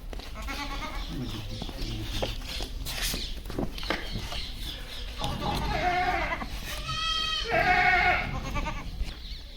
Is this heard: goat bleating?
yes